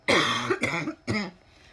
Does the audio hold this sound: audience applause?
no